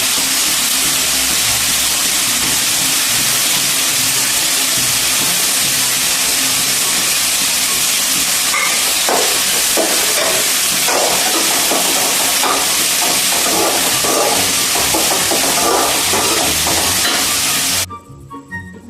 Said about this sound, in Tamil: இதுக்கு கொஞ்சம் கருவேப்பிலை போட்டுக்கணும்.